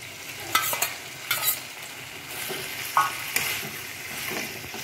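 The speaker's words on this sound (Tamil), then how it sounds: "நல்லா மிக்ஸ் பண்ணி எடுக்கலாங்க." Partridge pieces being stirred into a sizzling masala in a pan, a steady frying hiss broken by several scraping, clattering strokes of the spoon, close and moderately quiet, with no talking.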